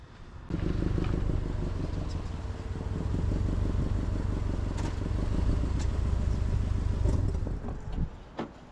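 A car engine with a clogged catalytic converter runs loud and close for several seconds, a deep rumbling drone with a slight swell in the middle before it cuts off near the end.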